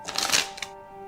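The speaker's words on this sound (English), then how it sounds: "Maybe shuffle again, Dr. Powell." Quick riffling bursts of card shuffling, a dense flurry of papery flicks followed by a single short snap, then quiet.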